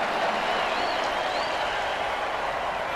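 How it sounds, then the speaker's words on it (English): A football stadium crowd in a video game cheers and applauds in a steady, dense roar, with no clear voices standing out. "After a quarter with no score, they're cheering on the refs."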